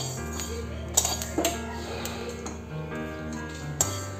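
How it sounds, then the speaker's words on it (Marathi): Fenugreek seeds being dry-roasted in a pan for Malvani vade flour, with clinks and light scrapes of a spoon against the metal at about 1, 1.4 and 3.8 seconds over a steady low hum of background sound. "आता काढून यामध्ये मेथी भाजून घेऊया."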